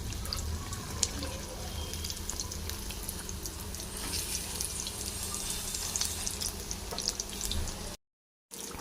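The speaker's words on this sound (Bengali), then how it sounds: "দুটো তিনটে করে একসাথে ভেজে নেব।" Bottle gourd fritters frying two or three at a time in hot oil, a steady close sizzle and crackle with a brief dropout near the end and no talk.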